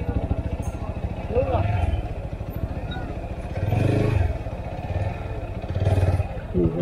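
A motorbike engine runs near and steady as it is ridden slowly toward a parking spot, with occasional revving and someone talking over it.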